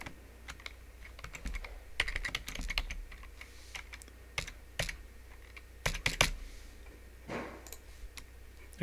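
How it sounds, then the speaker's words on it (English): Irregular clicks of typing on a computer keyboard, short taps and small clusters of keystrokes at a quiet, close level with no talking. "So you'll type in your student ID."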